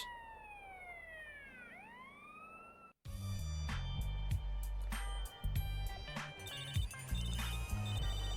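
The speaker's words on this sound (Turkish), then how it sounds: "Telefonum çalıyor." A mobile phone rings in GTA San Andreas, its electronic ringtone melody playing in clear repeating notes over the game's background ambience, after a sweeping tonal chirp.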